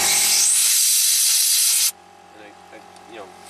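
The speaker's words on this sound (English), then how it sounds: "I got my air compressor charging up. We're going to blow out these cobwebs, literally." Compressed air from an air compressor hisses loudly in a steady blast through a clogged spot on a 2008 Infiniti G37S, cutting off abruptly, followed by quieter room noise with faint talk.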